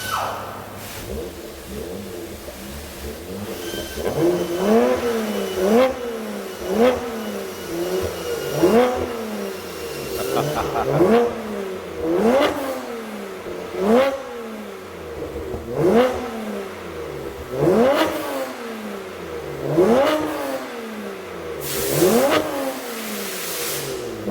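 A BMW F80 M3 fitted with an equal length mid-pipe exhaust makes repeated drive-by passes. Each pass brings a loud rising engine rev that swells as the car approaches and then falls away, about ten times in a steady rhythm.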